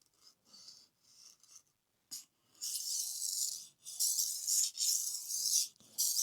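A knife blade is drawn back and forth across a 1200 grit sharpening stone, giving close, hissing scraping strokes, a few light and short at first, then longer and louder passes with brief gaps.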